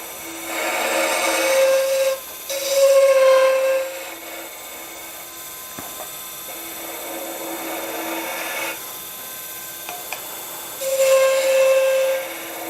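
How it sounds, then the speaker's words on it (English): A negative rake scraper cuts an epoxy and timber egg spinning on a wood lathe, giving three bursts of rasping, scraping noise with a ringing whistle-like tone, separated by the quieter hum of the turning lathe. "Again, negative rake, using it as a scraper."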